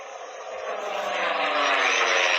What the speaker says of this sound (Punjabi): ਐਰੋਪਲੇਨ ਦੀ ਤੁਸੀਂ ਵੀ ਸੁਣ ਸਕਦੇ ਹੋ।